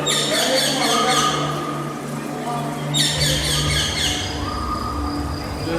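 Repeated bursts of electronic-sounding birdsong chirps over a steady wash of falling water inside the Pakistan Pavilion at Expo 2020, fairly close and continuous, with a low hum underneath.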